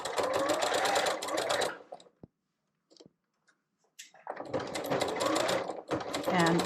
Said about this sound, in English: We're ready to go to the sewing machine.